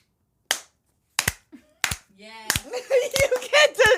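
A few sharp, separate hand claps spaced out at first, then quickening and overlapping with people talking.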